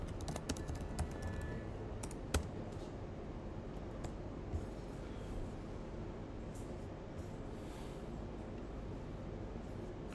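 Code is typed on a computer keyboard in a fast, steady clatter of key taps, quiet and close, over a low constant background hum.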